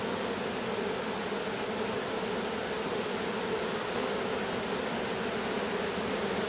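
Dense, steady buzz of honeybees in a hive, loud and close, continuous throughout with no voices.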